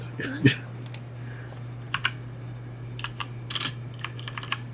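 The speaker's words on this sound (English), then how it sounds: "You can hear the typing." Typing on a computer keyboard, heard as sparse, faint clicks and short bursts of keystrokes over a steady low electrical hum, with a brief voice sound near the start.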